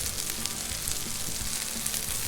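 Shrimp frying on a Blackstone griddle, a steady close hiss and crackle of hot oil with no voice over it.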